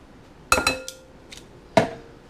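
Metal tongs clink and clatter against a bowl while tossing pasta with shrimp scampi sauce, with a few sharp close knocks and rattles separated by brief quiet gaps.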